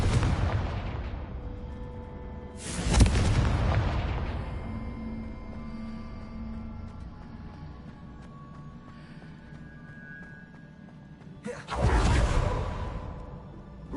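Confringo spells burst in Hogwarts Legacy, with two loud, broadband explosions several seconds apart. Each blast rumbles and fades out, and quieter game ambience fills the gap between them.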